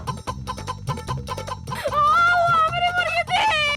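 Hen clucking in a repeated, choppy rhythm over a steady background beat, then breaking into a louder, drawn-out squawk toward the end.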